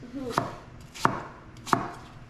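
Three crisp knife strokes through vegetables such as apples, beets or carrots hit a cutting board in a home kitchen, spaced evenly about two-thirds of a second apart, close and clear with faint room noise between.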